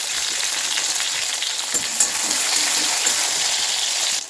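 Chopped onion and a green chilli frying in hot oil in a pan, a steady dense sizzle holding level throughout with a few faint spoon stirs, close and fairly loud, no voices.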